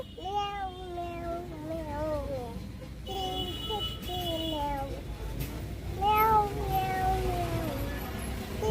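A voice imitates a cat, giving several drawn-out, wavering meows in a row, with an adult speaking in between.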